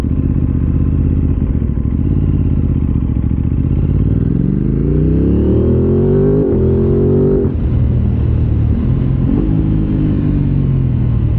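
An Aprilia RS660 Extrema sport bike engine rumbles steadily throughout, with the pitch rising and dipping as it revs and slows during braking. Loud and close, with clattery crackles from the exhaust over the engine drone and no talking.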